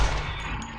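Gunfire from a weapon in the zombie survival game 7 Days to Die, a short burst of rapid shots ringing out close and loud for under a second.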